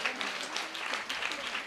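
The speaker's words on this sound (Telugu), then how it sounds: "అందరూ గట్టిగా చప్పట్లు కొట్టండి." A church congregation applauds after a sermon testimony, a steady wash of many hands clapping at moderate, fairly distant volume with a murmur of voices mixed in.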